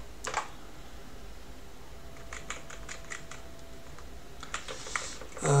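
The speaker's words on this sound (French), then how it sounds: "on tape du texte et après on voit" Keys tapping on a computer keyboard during command-line text editing, in short bursts of quiet clicks separated by pauses, with no talk.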